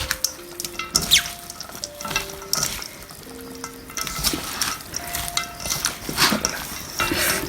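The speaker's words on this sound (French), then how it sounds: "bien mélanger jusqu'à ce que la couleur devient belle couleur rouge" Garlic, chili and chives are mixed into a red kimchi seasoning paste, giving wet, sticky stirring and scraping sounds at close range, with occasional clinks of a utensil against the bowl throughout.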